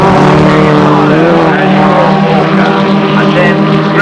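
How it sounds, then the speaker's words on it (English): Formula Talbot race car at Brands Hatch in 1981 crossing the finish line on the last lap, a loud continuous high engine roar close by, with a commentator talking over it. "Across the line goes the race leader."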